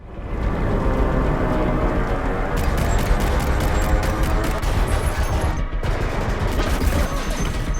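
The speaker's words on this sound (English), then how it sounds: "Within seconds, gunfire fills the air." Heavy, sustained anti-aircraft gunfire roars continuously, with sharp cracking bursts layered over a dense rumbling barrage.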